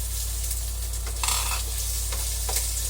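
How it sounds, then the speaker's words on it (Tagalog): Shrimp stir-fry in hot oil in a pan, a steady hiss with a few quick scraping tosses, set over a constant low hum. "Kapag po mainit na ang mantika, stir fry po natin ang hipon."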